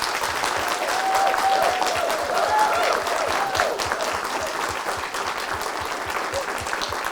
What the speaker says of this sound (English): Would you please thank him with a rousing round of applause?